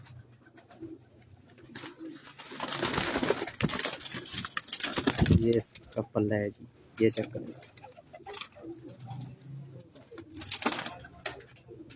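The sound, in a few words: pigeon cooing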